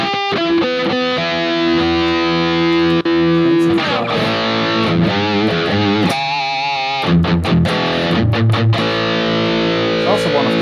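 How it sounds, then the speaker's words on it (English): Overdriven electric guitar run through a Cochrane Timmy overdrive pedal model on a Hotone Ampero 2 Stage, playing sustained chords and single-note lines with a light, crunchy drive, loud and close, no talking. "Cochrane Timmy overdrive pedal"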